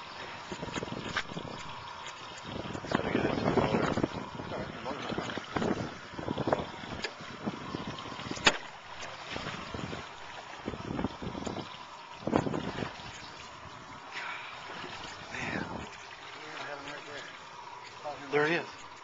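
A boat motor runs on the water, a low rumble mixed with wind buffeting the microphone and splashing, while people talk over it throughout.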